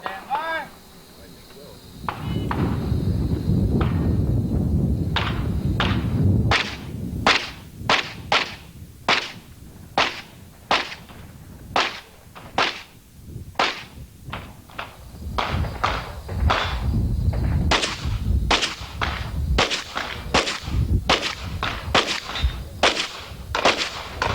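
Handgun shots at a USPSA practical shooting competition: a long run of sharp, loud cracks in irregular bursts, some in quick pairs, with outdoor echo and a voice talking underneath.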